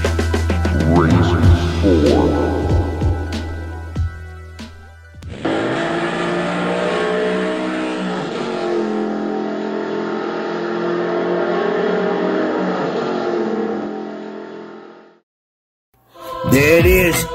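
1/32 scale slot cars racing on a track: a buzzing, whining motor drone that swells and holds steady for several seconds, with faint clicks and voices early on, ending in a brief pause and a final burst.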